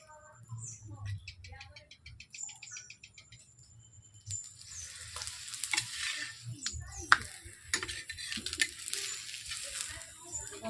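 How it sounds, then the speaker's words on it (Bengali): Aloo paratha frying in a pan, with a soft continuous sizzle under scraping and rolling sounds, faint clicks early on, and a louder, busier stretch of sizzling and handling in the second half; no speech. "এইভাবে আমি এক এক করে ভেজে নেব আর বেলে নেব।"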